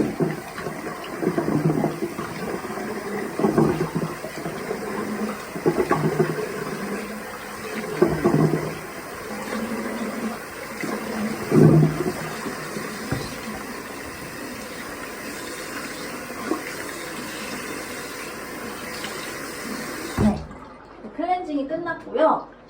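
Water splashing as a face is rinsed with clean water after cleansing, in a skincare routine at a sink; repeated splashes and pours run steadily for about twenty seconds, then stop abruptly, with a voice speaking briefly after.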